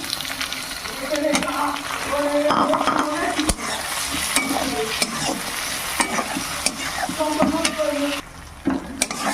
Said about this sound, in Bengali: টমেটোগুলো খুব সুন্দর করে ভেজে একদম গলিয়ে নিয়েছি